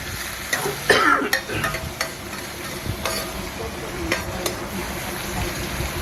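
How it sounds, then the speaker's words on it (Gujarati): Mixed vegetables fry in hot oil for pulao with a continuous close sizzle, while a utensil stirs and scrapes the pan in irregular clinks and scuffs. "આ રીતે બધા શાકભાજીને આપણે તેલમાં એડ કરી દઈશું"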